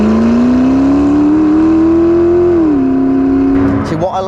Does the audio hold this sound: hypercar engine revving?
yes